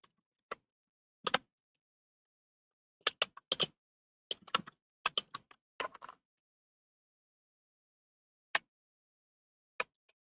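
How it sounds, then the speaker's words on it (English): Keys on a computer keyboard are typed in sparse, quiet clicks, single taps and short bursts separated by silence, close and dry, with no voices. "I'm going to type it over here then."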